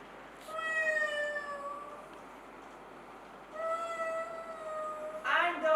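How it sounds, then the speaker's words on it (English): A lovesick cat's howl performed as a stage sound effect in a theatre production, two long, drawn-out wailing meows, each rising and falling, heard clearly and alone with a brief harsher yowl at the end. "And the howl of a lovesick cat."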